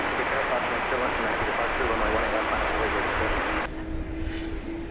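A jet airliner takes off from runway 18 left at DFW Airport, its engine roar loud and steady throughout, with radio voices talking over it.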